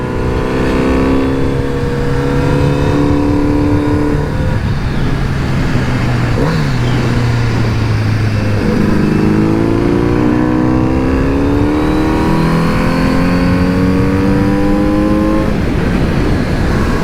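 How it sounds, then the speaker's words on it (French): Loud Kawasaki Z900 RS (2022) motorcycle engine roaring through the airbox intake as it accelerates and shifts, rising revs climbing repeatedly, close and continuous with no talking. "bruit qui sort de la boîte à air est impressionnant"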